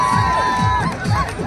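A crowd at a village kabaddi match between elderly players in dhotis and turbans in Osian cheers and shouts in a loud, brief burst, with high whistling or yelling voices rising and falling.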